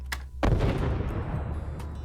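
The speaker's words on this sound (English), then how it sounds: "And now we have the explosion." A game sound-design explosion layer bursts in loud and close with a sharp onset, then a deep rumbling boom that sustains heavily to the end, preceded by a brief faint crack.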